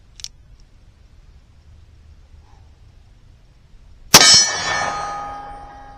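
A .357 Magnum revolver round strikes a steel target: one loud, sharp metallic clang rings out and decays over a couple of seconds after near silence, with a faint tick early on.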